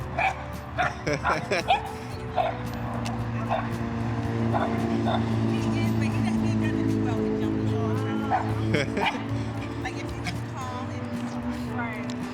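A young puppy yips, barks and whimpers repeatedly in short bursts, close by, while people talk throughout and a car engine hums in the background.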